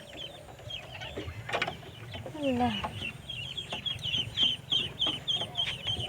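Chickens cluck in short, repeated bursts nearby, with scattered bird chirps and background rustling.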